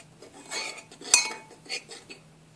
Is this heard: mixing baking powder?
yes